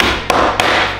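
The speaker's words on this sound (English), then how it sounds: "Use a rubber mallet." A rubber mallet striking a bolt on a RollerSki, two dull, evenly spaced knocks heard close up against a steady background hum.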